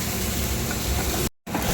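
Chopped shrimp and stuffing for stuffed pointed gourd sizzle as they are sautéed in a pan, a close, continuous frying hiss with stirring, briefly cutting out for a moment before resuming.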